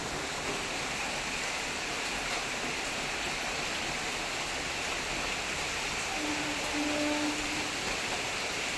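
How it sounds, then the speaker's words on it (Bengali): Rain falls steadily outside a home kitchen as a soft, even hiss of water, fairly quiet and unbroken throughout, with no voices. "দেখতে পাচ্ছ বাইরে কেমন বৃষ্টি হচ্ছে"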